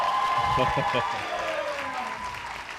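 Applause from the crowd at an IFSC Oceania Championships bouldering final, a brief, moderately loud burst of clapping and cheering under a commentator's voice, fading gently.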